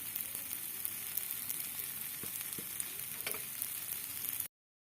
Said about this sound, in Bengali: দেখুন আমাদের এক পিঠ কি সুন্দর ভাজা হয়ে গেছে,